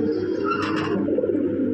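Red Lahori pigeons coo in a steady low murmur, close by and continuous, with a brief brighter flutter of bird sound partway through.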